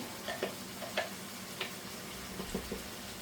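Tomato sauce is stirred into the cooking liquid of an oxtail dish in a pot. The spoon makes soft, faint scrapes and light clicks at an irregular rhythm over a low simmering hiss.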